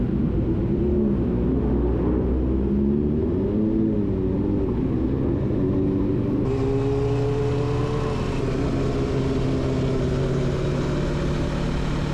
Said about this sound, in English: Those are some loud motorcycles, man.